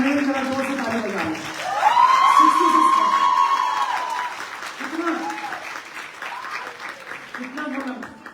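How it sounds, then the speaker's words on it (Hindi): Applause and cheering rise from a seminar audience at a motivational direct-selling event, with a voice ringing out over the crowd, the clapping swelling and then tapering into scattered bursts. "हमारी बहनें जरा जोर से ताली बजाएं।"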